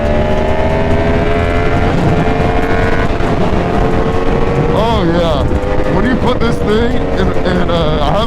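A Yamaha MT-10 motorcycle engine drones loudly and continuously while ridden, its pitch sliding up and down with throttle changes, with a rider's voice talking over it.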